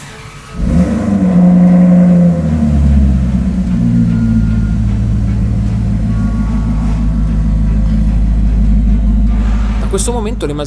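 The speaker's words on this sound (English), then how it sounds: "listening to a Modenese V8 startup when it comes out of the assembly line" A Maserati V8 engine fresh off the assembly line cranks and fires up, settling into a deep, loud rumbling idle with a faint rise in revs, close by.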